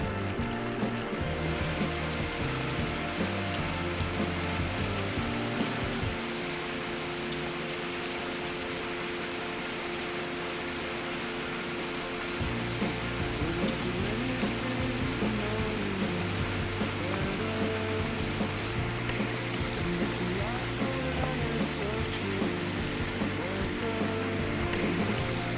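A babbling brook flows over rocks in the Smoky Mountains, with a steady rushing wash of water heard throughout beneath a layer of music.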